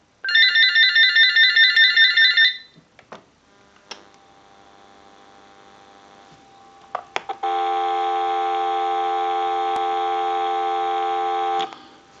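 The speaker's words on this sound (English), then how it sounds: "we'll give you some dial tone" A General Electric 6.0 27909 cordless telephone: a warbling ring gives way to a few clicks and a faint hum, then a steady dial tone sounds loud and unbroken for several seconds.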